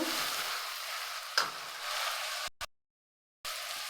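Snake gourd gravy masala being stirred and fried in a pan, a steady close sizzle with scraping stir strokes, then a short silent gap before the frying resumes.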